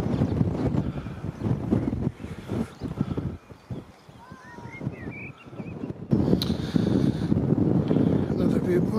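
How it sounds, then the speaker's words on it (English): Strong wind at a cliff edge above a harbour, buffeting and roaring across a small camera's microphone in loud gusts that briefly ease mid-way before surging back. "that's quite a strong wind"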